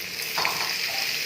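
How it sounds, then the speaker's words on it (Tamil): A pot of fish curry with tomato and coriander leaves bubbles and sizzles at close range, a steady hissing boil with a few soft pops. "மீன் கொதிக்குது."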